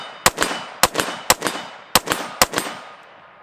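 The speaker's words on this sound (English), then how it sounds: "you can hear the difference in shot pace and accuracy if I come up here and support myself" Five rifle shots fired from a braced position against a barricade, evenly paced and loud, each a sharp crack followed by a ringing metallic hit on a steel target, close with a short echo trailing off.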